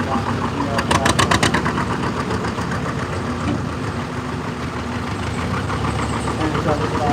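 A John Deere tractor engine runs at an outdoor tractor pull in Doughty Valley, Holmes County, Ohio, a steady rumbling idle with a brief burst of rapid knocking pulses early on.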